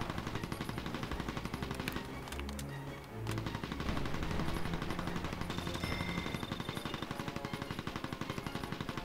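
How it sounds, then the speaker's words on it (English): Enemy gunfire in the open-world war game Mercenaries: Playground of Destruction, sustained rapid automatic bursts rattling almost without pause, layered with distant booms and game noise, loud and dense throughout. "I am taking enemy fire."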